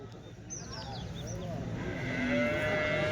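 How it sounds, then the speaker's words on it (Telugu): A Jersey cow moos at a busy cattle market, a drawn-out low call rising out of constant crowd chatter and background noise, with people talking throughout. "ఇది జెర్సీ ఆవు"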